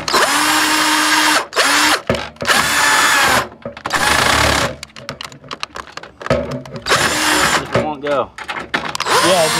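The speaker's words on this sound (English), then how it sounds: "The drill is set wrong." A power drill set wrong whirs in several bursts of a few seconds each while building a PC, loud and close, with short pauses, clicks and brief voices between.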